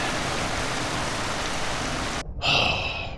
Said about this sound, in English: We got rained out